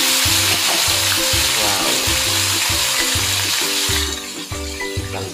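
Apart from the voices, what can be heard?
pork steak meat frying and sizzling in a pan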